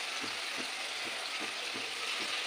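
Large chicken leg pieces fry in spiced masala, a steady close sizzle with soft rhythmic stirring thumps underneath.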